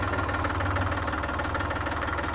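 A tractor engine idles close by with a steady, low, rhythmic diesel chug and vibration, running alone and unbroken throughout.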